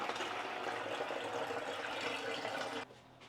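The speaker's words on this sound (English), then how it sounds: "we can just take it to our spray bottle and pour it all in." Liquid plant feed for orchids pours steadily into a spray bottle, a continuous close splashing trickle that stops abruptly near the end.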